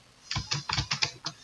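A password being typed on a computer keyboard, about eight quick, close keystrokes in a brief uneven burst.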